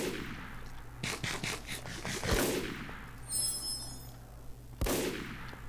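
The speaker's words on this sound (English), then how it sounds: "he's trying to shoot me through this wall" Gunfire from a modded Minecraft game sounds in a few sharp bursts, as if fired through a wall. The shots are fairly loud against a steady background hum, with scraping effects between them.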